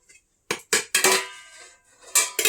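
A bowl being washed among dishes, with a handful of sharp clinks and knocks of crockery coming in quick bursts close by, separated by short quiet gaps.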